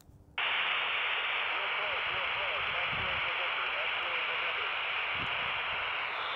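A weak 2m SSB amateur radio signal received on a cheap Quansheng handheld with a Moxon antenna, a steady loud hiss of static with faint, garbled voice fragments buried under the noise.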